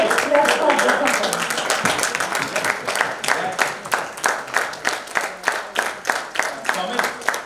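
Group applause at a get-together, loud and dense at first, then thinning to a slower, more separated clapping rhythm toward the end.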